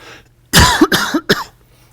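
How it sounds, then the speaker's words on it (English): A voice produces three short, forced coughs in quick succession, close and loud, with brief pauses between them. "I actually have no need to cough, but I'm feigning it."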